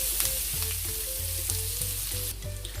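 Shrimp cooking in coconut milk for a Jamaican-style curry, a dense close sizzle and bubbling throughout with low, rhythmic pulsing underneath and no talking.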